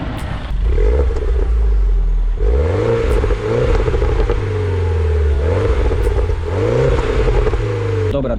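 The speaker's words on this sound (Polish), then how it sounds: "jak ten samochód tak naprawdę brzmi" A car engine revving repeatedly, rising and falling in pitch with a rumbling, clattery tone, loud and close, over steady background noise.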